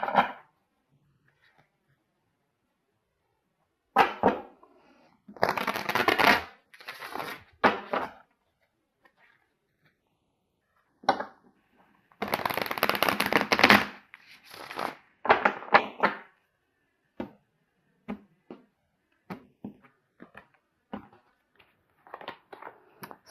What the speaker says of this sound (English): I'm going to get a card here from my Osho Zen deck.